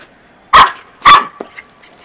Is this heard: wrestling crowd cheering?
no